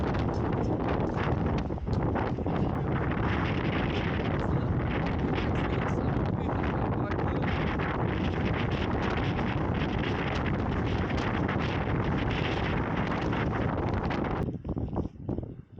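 Fierce wind gusts roar without letup across the microphone on the north face of Planjava in the Kamnik Alps during a winter climb, a loud continuous buffeting that drops away only in the final second.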